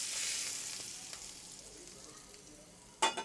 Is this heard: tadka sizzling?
yes